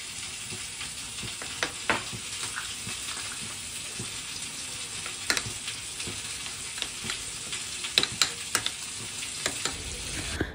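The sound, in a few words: onion paste frying in mustard oil with cumin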